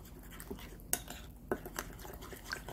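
Eggs and water being stirred in a bowl, a utensil clinking and scraping against the sides in quick, uneven strokes with a couple of sharper knocks, close and fairly clear.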